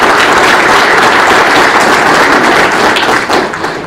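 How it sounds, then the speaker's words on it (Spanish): A loud, dense round of applause from the audience at a conference welcomes a speaker, holding steady and then thinning slightly at the end. "Lo recibimos con un fuerte aplauso, por favor, damas y caballeros."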